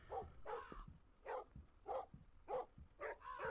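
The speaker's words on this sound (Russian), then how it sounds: "Вот какого хрена ты лаешь, собачини?" A dog barks repeatedly in the horror video game Metel, six or seven sharp barks in an uneven rhythm, fairly close and clear with no talking over them.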